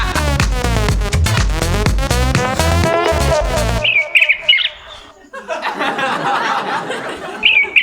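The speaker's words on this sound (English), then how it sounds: "It's a North American robin." A recorded North American robin song, set as a phone's text-message notification, chirps in bright repeated phrases after a stretch of dense music, with laughter mixed in.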